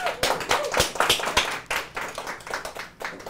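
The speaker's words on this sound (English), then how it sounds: "a round of applause for our awesome patient" A small group claps for a patient after a live endodontic procedure, a brief round of sharp, close hand claps with uneven rhythm rising and falling over a few seconds.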